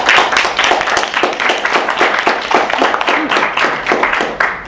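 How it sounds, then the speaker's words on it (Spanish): An audience at an academic conference session gives a round of applause after a speaker is introduced, many hands clapping steadily and fairly loud for several seconds, with no speech over it. "damos un aplauso a la doctora."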